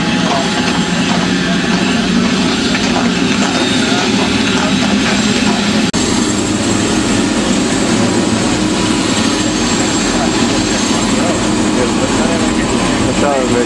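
Loud, continuous helicopter rotor and engine noise fills a tour flight over Ketchikan, Alaska, a steady roar with a broad rumbling texture and no break.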